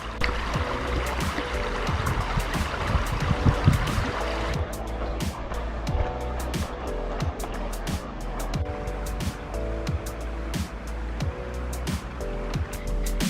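Water flowing over a submerged tree branch in a Scottish woodland stream during a storm, a steady close rushing and gurgling that runs continuously with no talk.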